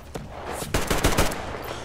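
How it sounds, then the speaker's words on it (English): Gunfire in the post-apocalyptic shooter Metro Exodus: a couple of isolated shots, then a loud rapid burst of several close shots, with game ambience continuing after. "I shot him multiple times."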